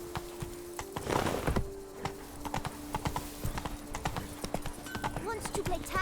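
Horse hooves clip-clopping at a trot in The Witcher 3 video game, a quick irregular patter of hoof strikes close by with a brief horse snort or whinny and a voice speaking near the start.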